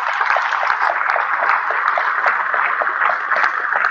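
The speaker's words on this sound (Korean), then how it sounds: "박수로 받아주시기 바랍니다." A hall audience at a book launch commemorating Park Chung-hee's 100th birthday applauds a seven-member chamber ensemble, a dense, steady wash of many hands clapping continuously at moderate volume.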